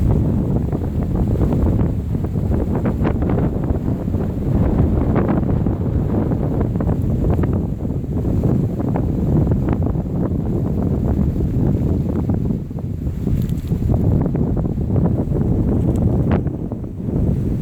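Steady wind roars through a forest at a mountain recreation forest, a constant low rushing with heavy buffeting against the microphone throughout, no talk.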